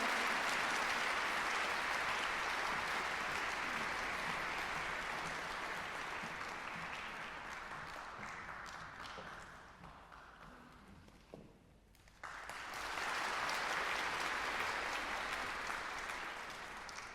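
A concert hall audience applauds steadily to welcome the chairman of the Korean Chamber Orchestra at a Korea–Japan friendship concert; the clapping is dense and sustained, thinning briefly near the end before swelling again.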